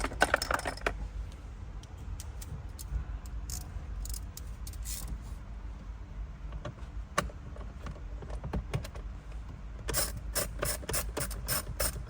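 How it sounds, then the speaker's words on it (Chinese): Ratchet clicking while two screws come out of the center console of a Ford Fiesta ST MK7, with quick bursts of close, dry ratcheting clatter near the start, around the middle and in a dense run toward the end over a low background hum. "把这2个螺丝拆掉。"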